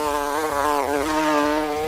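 A voice imitates the buzzing wings of a flying toy figure, producing a loud, steady insect-like buzz with a wavering pitch that holds alone for about two seconds.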